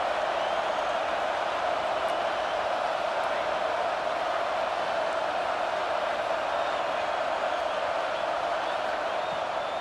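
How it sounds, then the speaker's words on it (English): A stadium crowd in the College Football 26 video game roars in a steady, unbroken wash of noise that holds level throughout, with no clear voices standing out. "The roar of the crowd trying to fuel this defense to keep them pinned in their own end."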